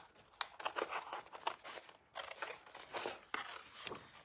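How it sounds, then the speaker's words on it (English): Scissors snipping around a piece of card paper, a quick run of short close crisp cuts and rustles with brief pauses between bursts. "So I'll grab my scissors and let's just cut around that as quickly as I can."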